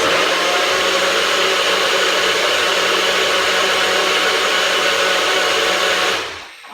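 A blender mixing a berry breakfast shake runs with a loud, steady whirring motor drone that cuts off abruptly near the end, alone with no talking.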